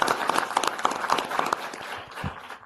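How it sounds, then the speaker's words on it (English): Applause from a modest audience at a regular board meeting, a dense patter of hand claps holding steady for a few seconds before thinning out toward the end, with no voices. "I think a round of applause is in order."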